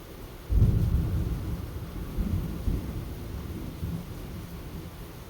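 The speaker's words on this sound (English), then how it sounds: "thunder sounds in the background" A thunderstorm rumbles in the background with a low thunder roll that swells early and fades slowly, over a soft steady hiss of rain.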